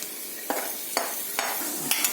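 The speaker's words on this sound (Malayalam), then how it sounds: "അത് നമ്മൾ നമ്മുടെ ചിക്കൻ കറിക്കകത്തേക്ക് ഇങ്ങനെ നമ്മളിങ്ങനെ ഒഴിച്ച് കൊടുക്കുന്നു" Ground tomato and shallot paste poured and stirred into sizzling chicken curry in a home kitchen, a steady hiss of frying with soft scraping strokes recurring about every half second.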